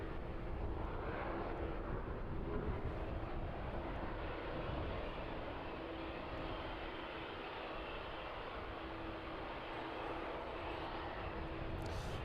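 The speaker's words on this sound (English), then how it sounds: "Maersk 767 just touching down" A Maersk Boeing 767 touches down at East Midlands Airport in the evening, its engines a steady, broad roar that holds at an even level throughout, heard from a distance.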